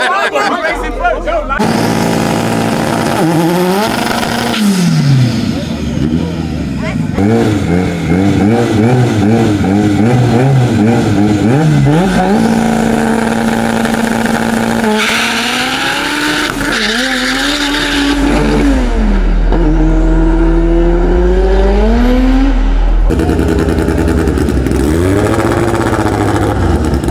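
Street race cars at a no-prep drag race roar and rev loudly, engines climbing and falling through gears with tire squeal, while a crowd chatters and people talk over the din.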